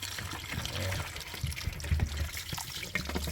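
Water running from an opened tap near a chicken drinker in a backyard coop, a steady faint splashing trickle with low rumbling background noise throughout.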